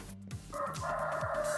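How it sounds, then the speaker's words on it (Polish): Chickens in the Minecraft video game cluck softly at a low level, joined by a few tonal in-game sound effects. "Komu tam kury jajka znoszą?"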